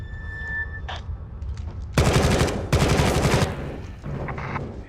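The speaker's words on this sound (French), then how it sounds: "Il nous tire dessus, Taylor s'est fait descendre." Bursts of automatic gunfire erupt at close range in two sustained volleys, loud and rapid, with quieter shots and clatter around them.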